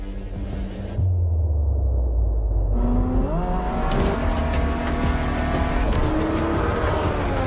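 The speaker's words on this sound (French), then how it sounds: "Vous sentez le moteur, vous sentez la puissance." A hypercar engine roars close and loud while driving, revving up through rising, climbing pitches with shifts between gears and a sustained high-rpm snarl, with no talk over it.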